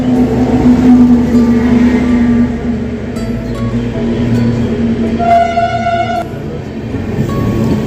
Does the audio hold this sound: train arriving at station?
yes